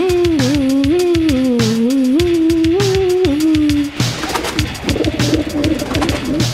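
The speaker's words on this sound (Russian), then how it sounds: "А что этот голубь здесь делает?" A cartoon pigeon coos in a wavering, stepped low tone over a steady rap-style beat in an animated children's show set at a school, then the cooing fades into busier music.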